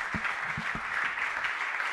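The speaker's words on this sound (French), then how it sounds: "Donc on vous applaudit encore." Applause from an audience at a public debate on political equality, a sustained moderate patter of clapping with a few distinct low thumps early on.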